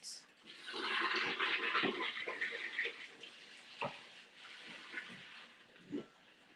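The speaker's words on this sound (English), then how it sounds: "Just pouring my water out, you guys" Water poured out of a cooking pot after boiling corn for a seafood boil, a loud, steady rushing gush for most of the stretch that thins out toward the end, with a few brief knocks and clunks.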